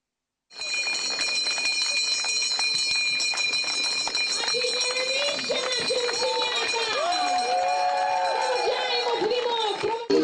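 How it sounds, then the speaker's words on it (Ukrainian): A school bell rings continuously at a last-bell ceremony for graduating eleventh-graders at a regional boarding lyceum in Rivne, a steady loud bell tone over crowd noise and a voice speaking throughout. "Сьогодні шкільний дзвінок востаннє пролунав для понад сотні учнів обласного ліцею інтернату."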